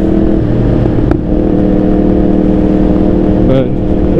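A Yamaha R1 sport motorcycle engine revs loud and close in a steady, high droning roar, dipping briefly before surging again.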